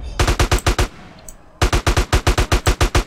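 Automatic gunfire in Grand Theft Auto: San Andreas: a rapid burst of about six sharp shots, a brief pause, then a longer burst of roughly a dozen evenly spaced loud cracks.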